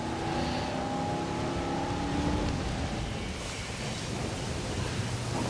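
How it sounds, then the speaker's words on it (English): Steady rain hisses through a Jurassic World Evolution game scene, a dense, even wash with a low rumble of thunder underneath and a faint tonal drone fading early. "But oh, it's starting to rain."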